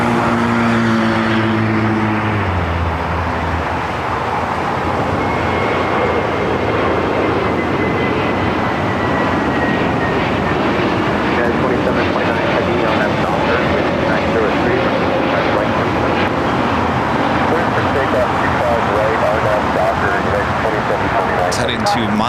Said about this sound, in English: I got that Viva Aerobus A321neo now taking off